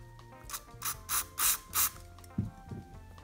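Four quick bursts of a spray bottle hiss in a row, close and crisp, spraying onto a nail, followed by a couple of soft clicks.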